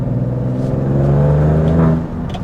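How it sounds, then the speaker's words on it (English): A car's exhaust in dynamic mode with the muffler valve opening gives a deep, loud engine drone that swells and holds, then drops off near the end. "this thing really starts opening up on the exhaust valve on the muffler"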